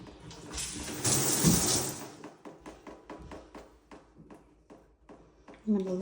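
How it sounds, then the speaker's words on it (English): A bathroom sink faucet gushes briefly, then falls to a steady run of water drips, close by, while a person talks over the sound. "I'm gonna let that drip for a minute."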